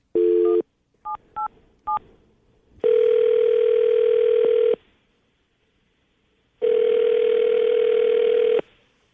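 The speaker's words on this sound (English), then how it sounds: "I'm going to call her right now, get her on the phone, and see if we can get an answer" A telephone call is placed with a steady dial tone, then several short dialing beeps, followed by two long ringback tones separated by silence, loud and clean with no talking.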